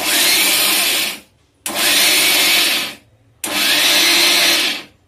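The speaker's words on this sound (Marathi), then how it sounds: "आता फिरवून घेऊया मिक्सरला आपण" A mixer grinder grinding garlic-coconut chutney whirs in three loud bursts, about a second each, with short silent gaps as it is switched on and off.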